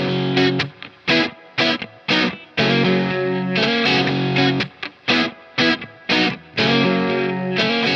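Two distorted electric rhythm guitars interlock in a choppy, stop-start pattern, chords cutting off and restarting between bursts, loud and close with no voices.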